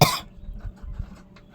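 A single sharp, loud cough bursts out at the start, followed by faint low rumbling and quiet room noise.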